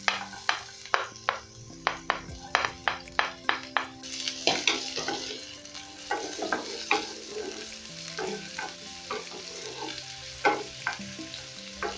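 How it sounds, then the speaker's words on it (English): Onions fry in hot cooking oil for an Ndengu curry with a steady sizzle, punctuated by quick rhythmic taps and scrapes of a spoon stirring against the pan. "Once my oil is hot, I'm going to go in with my onions."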